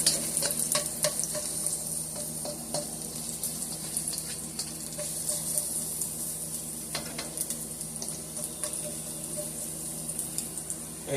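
Garlic frying in a pan, a steady sizzle running throughout with scattered crackles and spatula scrapes, close and continuous with no talking.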